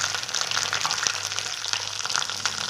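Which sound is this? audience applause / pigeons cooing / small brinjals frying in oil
small brinjals frying in oil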